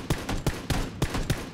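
Gunfire in PUBG Battlegrounds: about five fairly faint, evenly spaced shots crack in a steady rhythm over a low background.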